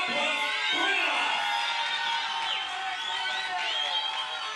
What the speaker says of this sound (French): Merci d'applaudir Eddie La Poisse Cuevas.